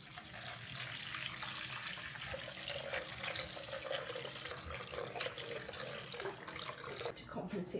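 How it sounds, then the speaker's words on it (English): Warm water runs and splashes steadily from a tap into a bowl for no-knead bread dough, a continuous close pouring sound with faint voices underneath. "750 mils of warm water into here"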